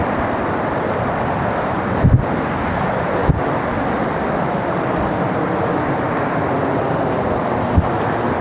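Steady, dense rush of water pouring over the small Kinalos waterfall in Konkan, Maharashtra, a broad, constant roar heard close up with a few faint knocks and no talking.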